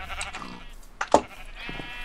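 A sheep in a video game bleats in short, nasal, wavering calls, with two or three bleats close by over a quiet background.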